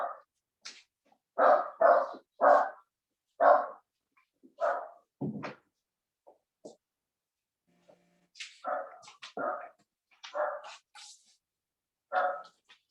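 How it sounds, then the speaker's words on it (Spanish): A small dog barks at squirrels, with a dozen or so sharp yaps and short barks in irregular bursts separated by pauses, fairly close and clear with no talking. "mi perrito está ladrando a las ardillas"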